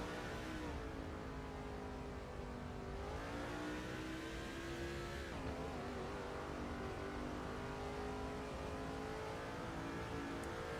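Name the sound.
race car engine in NASCAR 2005 video game, Monte Carlo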